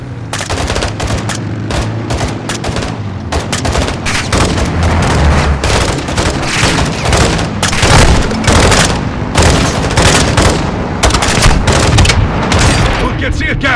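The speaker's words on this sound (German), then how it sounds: "Gas, greif sie mit dem Werfer an" Heavy gunfire with repeated launcher blasts in a Call of Duty Modern Warfare 2 battle, dense rapid bursts and booming explosions that stay loud throughout, with voices shouting in the mix.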